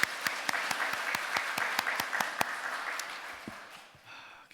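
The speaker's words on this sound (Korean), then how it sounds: "박수 한번 올려드리겠습니다." Church congregation applauding during a Sunday worship service, a steady burst of many hands clapping that fades toward the end, with no talking over it.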